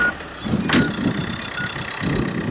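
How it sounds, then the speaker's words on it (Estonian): An old, rusty Volvo car engine running steadily up close, a continuous mechanical drone with a faint high whine and no speech. "mootor töötab hästi"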